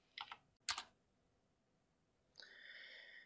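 Quiet computer keyboard typing while entering text into a Google Chrome extension search, two short clicky clusters of keystrokes near the start, followed by a steady electronic hum.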